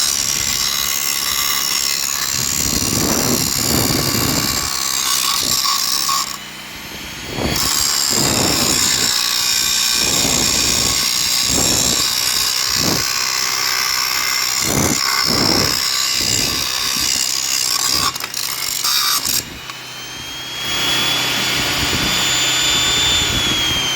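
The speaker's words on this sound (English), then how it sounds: "Gotta use the grinder." A grinder grinding down metal where an air chisel failed, loud broadband whine running in repeated bursts with brief pauses between passes, no talking.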